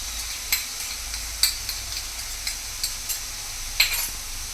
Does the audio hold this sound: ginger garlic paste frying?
yes